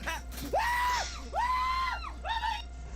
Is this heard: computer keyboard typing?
no